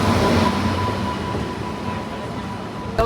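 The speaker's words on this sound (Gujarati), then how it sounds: "આવી ગઈ જાઓ આપણી ટ્રેન" A passenger train pulls into a station, its loud, steady rumble filling the clip with a faint high whine of wheels and brakes, with no one talking over it.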